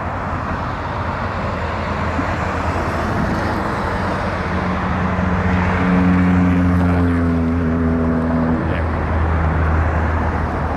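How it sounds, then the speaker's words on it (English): Airbus A319 airliner at Toronto Pearson airport, a broad steady jet roar heard from a distance, with low engine tones swelling in the latter half over continuous background noise. "It's an Airbus A319."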